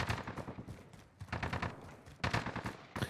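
Rapid automatic gunfire in Call of Duty: Modern Warfare hardcore multiplayer, several short bursts separated by brief gaps, fairly quiet and distant in the mix.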